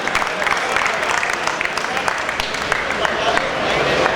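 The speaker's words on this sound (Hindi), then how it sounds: "जोरदार तालीम से इस्तकबाल करें जनाब जलाल अकबर।" Audience applause at a mushaira poetry recital in Nizamabad, dense sustained clapping from a large crowd that carries steadily throughout without pause.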